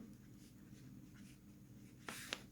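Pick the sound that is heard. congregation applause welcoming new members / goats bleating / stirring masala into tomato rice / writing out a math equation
writing out a math equation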